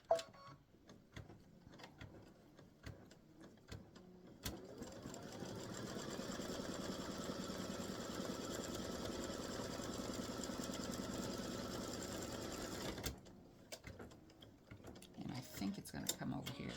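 A sewing machine stitches an appliqué quilt block in one steady, continuous run of rapid mechanical chatter lasting several seconds, close and moderately loud, with quiet handling clicks before and after.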